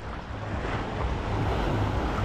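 Sea waves wash steadily at Pattaya Beach in Thailand, a continuous broad surf roar mixed with wind buffeting the microphone, with no talking.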